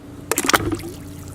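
An LED light pod drops into a bucket of water, giving a short splash and gurgle that lasts under half a second, then fades into a faint hum.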